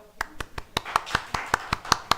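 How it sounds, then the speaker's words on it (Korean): Church congregation clapping after a Sunday morning service: a small group giving sparse, distinct claps in a loose, slightly accelerating rhythm, fairly near and moderately loud, with no voices over them. "오신 분들을 우리 박수 한번 할까요?"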